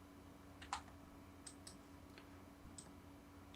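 A computer keyboard used to enter a shortcut key in AutoCAD gives a handful of soft, separate key clicks spread over a few seconds. They sit faint and close over a steady low hum.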